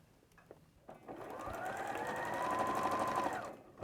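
A domestic sewing machine runs in one steady, close burst of a few seconds, stitching quilt pieces in a chain, starting after a few light handling clicks.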